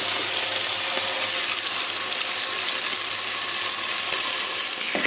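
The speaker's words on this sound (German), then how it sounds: "Schöner, nicht so magerer, einfach nur Speck, der dann schön in der Knusprig in der Pfanne brutzeln kann." Bacon sizzles and crackles in a frying pan during breakfast aboard a Pedro 850 Atalanta boat, a dense, steady hiss that stays close and even throughout with no talking.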